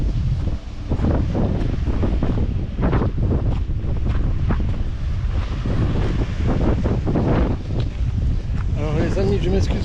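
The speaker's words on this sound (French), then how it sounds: "je m'excuse pour le vent" Strong coastal wind at Sète, France, buffets the microphone in loud, continuous rumbling gusts while someone talks over it throughout.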